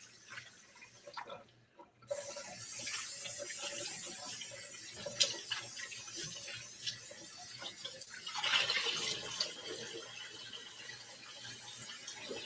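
Water from a tap runs into a sink while something is rinsed out, a soft continuous splash with small clinks and shifts, close and fairly quiet.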